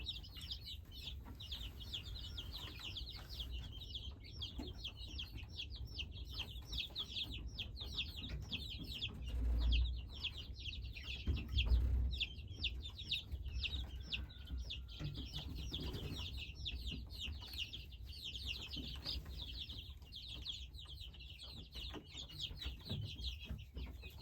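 Rhode Island Red and black sex-link chicks, ten of each, cheep and cluck continuously in a dense chorus, with soft wing flaps and brief low bumps nearby.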